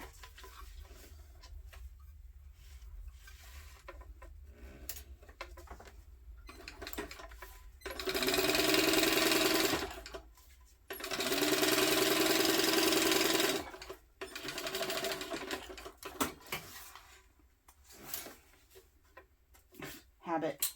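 A sewing machine top-stitches an Oxbow Tote bag in two loud, rapid bursts of stitching, each a few seconds long, with someone talking quietly and fabric handling before and after.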